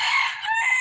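A rooster crows once, loud and near, a bright harsh call that dips briefly midway before carrying on to the end.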